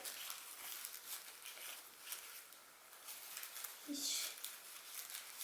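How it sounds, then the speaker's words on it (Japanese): Tissue flower-paper petals of a handmade margaret flower are gently peeled apart, giving soft, close, continuous crinkling rustles with one brighter crinkle near the end. "2枚目ものすごく優しく こうめくってください"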